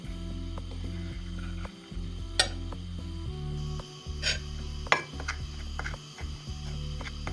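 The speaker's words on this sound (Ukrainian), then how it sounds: "Борошно перемішала" Flour mixed with black pepper is stirred in a bowl, a utensil clinking and scraping against the dish in irregular taps over a low, steady background hum.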